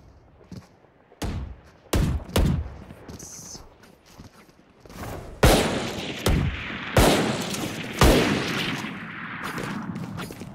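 Gunfire in the video game Valorant, played on high settings: a series of sharp, loud shots at irregular intervals, some single and some in quick pairs, each followed by a brief ringing tail, with no talking.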